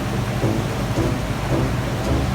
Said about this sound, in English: Seems we have a little rain.